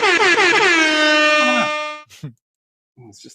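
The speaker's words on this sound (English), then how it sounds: "You want the air horn?" A loud air horn blares in a single sustained blast of about two seconds, dropping slightly in pitch as it fades, followed by brief rustling and a faint distant voice.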